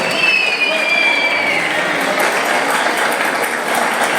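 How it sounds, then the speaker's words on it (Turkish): Wedding guests applaud the witnesses at a nikah ceremony, a dense, loud, sustained wash of clapping from a crowd, with a brief whistle early on. "bir alkışla nikah şahitlerimiz için alabilir miyiz?"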